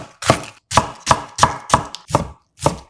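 A knife cuts 300 g of washed cabbage into thin strips about 0.5 cm wide, making seven crisp, evenly spaced chops heard up close with no talking.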